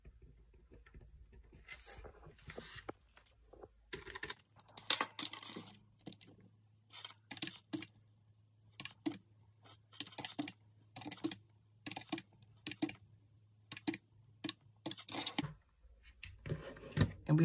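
Keys pressed on a white calculator, a long series of quick, light plastic taps in uneven clusters with brief pauses between them, close but quiet against a low hum.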